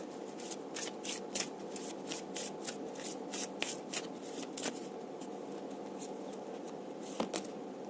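Tarot cards shuffled and drawn by hand, a close run of crisp riffling flicks and taps in quick irregular bursts, then a few isolated card snaps, with no talk.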